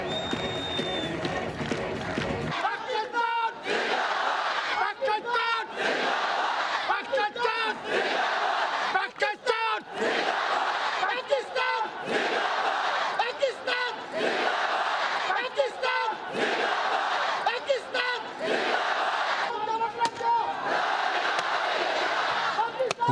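A stadium crowd roars and chants in rhythmic waves at the Pakistan border flag-lowering ceremony, loud repeated bursts of cheering and battle cries in a large open-air setting, after a few seconds of quieter sound at the start.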